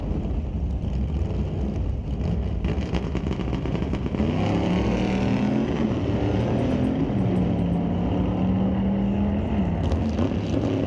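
A 1962 Chevrolet Bel Air with a 409 engine and a Ford Falcon drag race at Mission Raceway Park, a loud, continuous engine roar with rising, shifting tones that swells midway and stays steady until the end.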